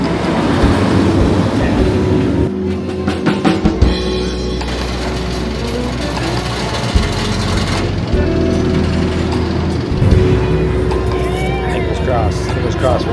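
An empty roller coaster train at Cedar Point rumbles and rattles past nearby, with steady mechanical clatter and a low rolling roar throughout, people talking faintly in the background.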